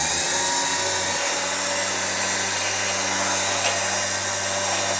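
A Smittybilt XRC 9500 lb winch motor on a Jeep Wrangler runs steadily, giving a constant loud electric whine with a low hum underneath and no pauses.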